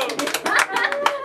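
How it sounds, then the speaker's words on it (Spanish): Short burst of hand clapping at a birthday mariachi performance, a few close, uneven claps mixed with bright voices and a sustained tone over about a second. "Y el aplauso para ellas que se escuchen fuerte,"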